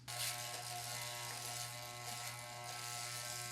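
Electric hair clippers fitted with a number 2 guard cut hair during a DIY haircut, giving a steady close buzzing drone with a faint shifting rasp as the blades move, no voices.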